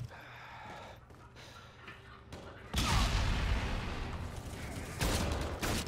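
Grenade launcher blasts in Infinite Warfare, muffled booms and rumbling explosions that swell suddenly midway and stay loud and noisy.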